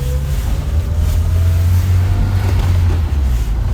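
A 2002 Honda S2000 idles while warming up, giving a steady, close, low engine rumble that stays even throughout, with no talking.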